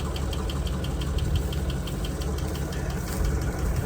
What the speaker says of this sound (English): I think I'll just hit this one with the starter pack.